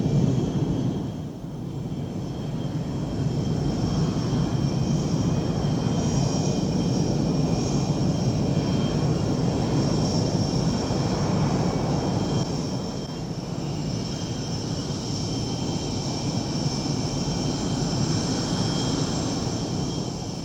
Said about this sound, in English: As the planes exit the taxiway and approach the tarmac, the ground crews prepare to receive the aircraft.